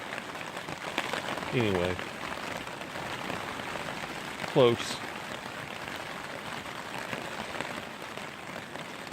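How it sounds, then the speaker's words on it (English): Steady rain patters on a surface throughout at a mountain campsite near Beartooth, with someone briefly speaking twice under the constant downpour. "it was wet, it rained like this all night long and worse"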